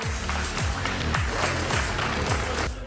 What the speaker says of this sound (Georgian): გიორგი ელოიანს და დავით საყვარელიძეს აპლოდისმენტებით დავემშვიდობოთ გთხოვთ